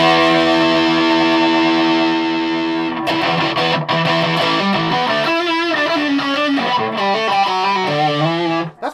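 A heavily distorted electric guitar through a cheap distortion pedal rings out sustained chords, then switches to a busier riff of fuzzy, crunchy notes.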